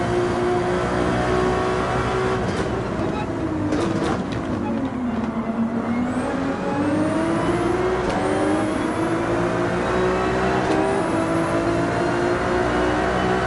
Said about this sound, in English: Still getting used to being back behind the wheel of a GT3 vehicle.